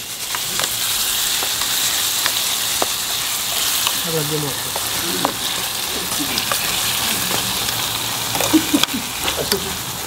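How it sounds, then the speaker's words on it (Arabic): Kuwaiti machboos is stirred with salt in a pot, with a steady sizzling bed under soft scraping and clinks while people talk faintly in the background. "ونحط الملح وهذا الملح وتقليبه خفيفه"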